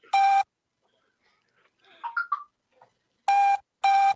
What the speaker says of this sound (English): You can answer your fucking phone or what?